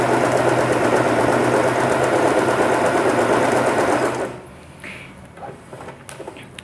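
A Janome 3022 sewing machine runs a scallop stitch, its steady, close mechanical whir lasting about four seconds before it stops and only faint handling noises remain.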